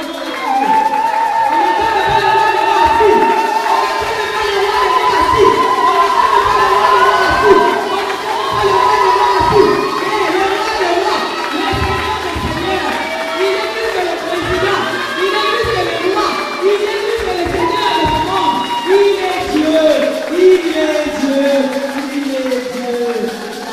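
A seminar crowd cheers and shouts continuously, with many overlapping voices and whoops sustained loudly throughout, close and dense.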